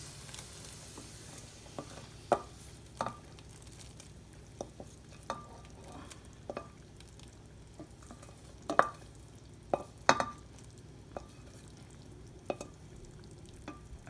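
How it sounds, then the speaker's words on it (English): In a pot of lentils, sautéed vegetables and oil are stirred with a spoon over a low, steady simmering hiss. Sparse sharp knocks and scrapes of the utensil on the pot come at irregular intervals, fairly quiet. "so then you stir it around to make sure you mix it all around"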